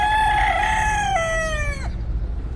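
A rooster gives one long, loud crowing call up close, rising and holding before breaking off sharply, with only faint background noise after.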